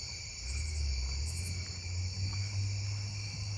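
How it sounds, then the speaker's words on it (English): A lesser anglewing katydid calls amid a dense night insect chorus in a neighbourhood, its faint ticking notes sitting over continuous high cricket trills and a low background rumble. "Lesser anglewing."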